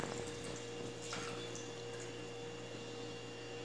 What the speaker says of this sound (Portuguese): Vamos colocar aqui 500 ml de água morna